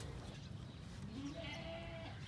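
Goats bleat in short wavering calls on a farm over a steady outdoor rumble, one bleat rising clearly near the middle, moderately close.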